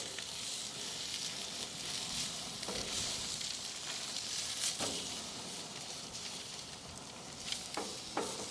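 A freshly flipped Chilean sea bass fillet sizzles in ghee in a pan, a steady close hiss with a few faint taps and spatter pops, no talking.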